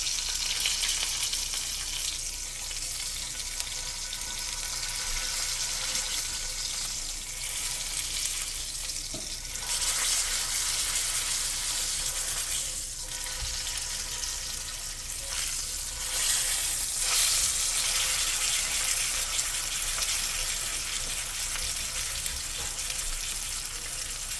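A tomahawk ribeye steak sears edge-down in a hot pan, giving a steady, loud sizzle and crackle that runs the whole time with small shifts in intensity and no talk.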